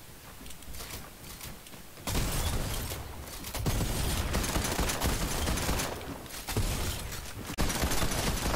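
An unusual gun in Fortnite Chapter 2 Season 6 fires in rapid rough bursts of shots, loud and close, with a quieter stretch before the shooting starts and several pauses between volleys.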